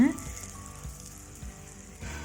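A Madurai-style butter bun fries in a pan with a steady close sizzle and crackle, a soft continuous hiss with small pops throughout.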